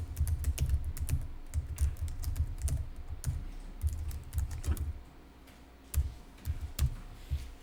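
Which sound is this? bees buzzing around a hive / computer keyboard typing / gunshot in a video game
computer keyboard typing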